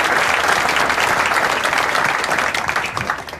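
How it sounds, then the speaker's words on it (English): A high school audience gives a warm round of applause for Doreen, a dense, loud burst of many clapping hands that stays full for most of its length and then thins out and fades at the end. "So I just wanted to take a second and maybe give her a round of applause"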